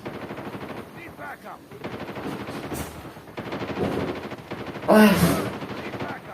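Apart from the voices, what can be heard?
gunfire from shooting enemies in a video game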